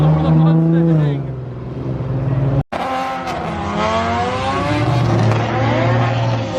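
A Ford Mustang at a cars and coffee meet accelerates hard, its loud exhaust roaring and tires chirping in rising, wavering revs, with a brief cut midway and excited voices mixed in.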